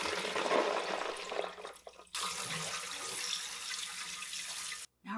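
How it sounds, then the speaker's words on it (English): Soaked dried beans draining in a kitchen sink, water pouring and splashing steadily at close range, with a brief pause midway and a short cut near the end. "You gotta drain the beans."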